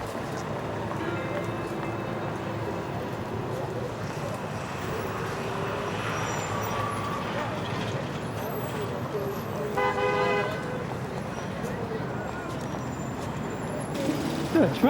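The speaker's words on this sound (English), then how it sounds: "traffic up there" Busy New York City street traffic with a steady roadway rumble, scattered car horn toots and a louder burst of honking near the end, while people talk over the din.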